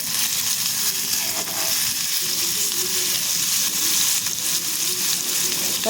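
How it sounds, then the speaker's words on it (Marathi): Chopped tomato sautéing in hot oil in a pan, giving a steady, close, loud sizzle with faint stirring scrapes throughout and no voices. "मी एक का टोमॅटो घेतला आहे ते पण मी टाकून घेऊन परतून घेणार आहे"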